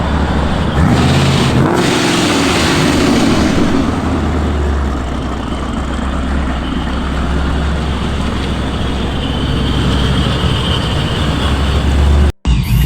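A supercharged Ford Mustang engine drones loud and steady the whole way through, a deep, heavy rumble that cuts out abruptly for a moment near the end.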